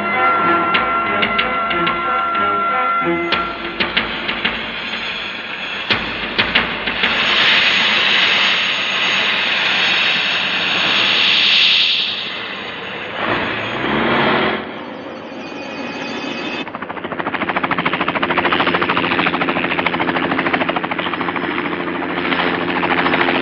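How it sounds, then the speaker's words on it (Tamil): A helicopter starts up and flies in a film scene, its engine building from bursts into a steady loud whine and rotor roar that runs throughout with brief dips. "நாம இப்ப பாகிஸ்தான் ஹெலிகாப்டர்ல போய்கிட்டு இருக்கோம்"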